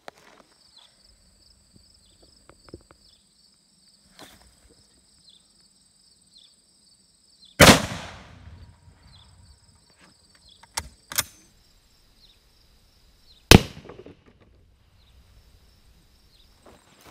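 Mosin Nagant rifle shots aimed at 2x4 pieces and plastic jug targets outdoors, three sharp loud cracks spaced several seconds apart, with crickets chirping steadily in the background.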